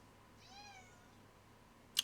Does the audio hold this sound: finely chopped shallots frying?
no